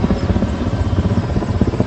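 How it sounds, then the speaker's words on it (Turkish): A Turkish military attack helicopter flies over a wildfire in Manavgat, and its rotor thumps in a loud, steady chop that fills the scene with no voices. "askeri bir helikopter"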